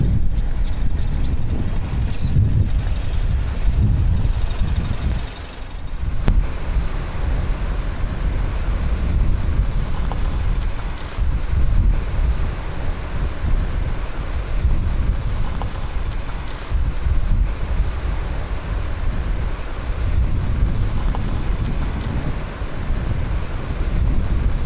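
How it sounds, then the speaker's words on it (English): Strong wind roars steadily across the microphone, a loud continuous buffeting rumble with gusts, outdoors on the California coast at Pigeon Point, no voices. "Can you tell how windy it is?"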